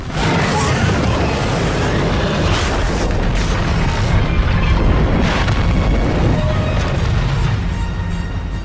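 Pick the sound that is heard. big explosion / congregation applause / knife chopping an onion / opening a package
big explosion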